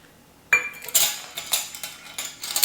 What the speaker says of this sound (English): we're just going to give that a good stir